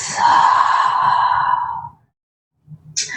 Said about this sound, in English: And exhale through the mouth.